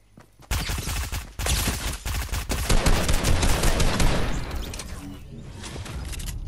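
In Fortnite, sustained gunfire erupts after a short pause, with rapid automatic shots and overlapping bursts that stay loud and dense, then gradually thin and recede toward the end.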